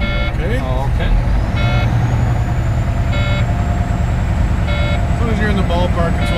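A truck engine holds steady at about 1200 RPM to build air brake pressure during a DOT inspection, a loud continuous drone with repeated beeping tones, and voices talking over it.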